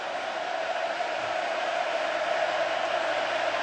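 A noisy football stadium crowd at a Crimson Tide versus Texas A&M Aggies game roars in a constant, dense wall of cheering and shouting that never lets up.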